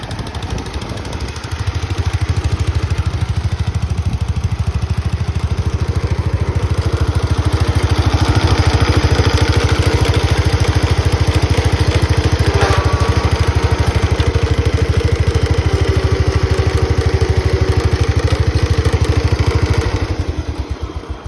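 A John Deere-style 856 garden tractor engine runs steadily with a loud, continuous mid-range drone and clatter, swelling slightly as it passes and fading near the end, with no talking.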